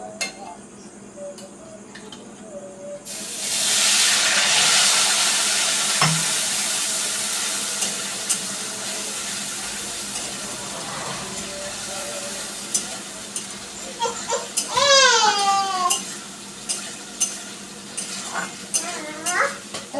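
Whole cumin seeds hit hot oil in a pan for spicy red chicken kasha, a sudden loud sizzle that settles into steady crackling, with spoon scrapes and clinks against the pan and a brief shrill squeak near the end.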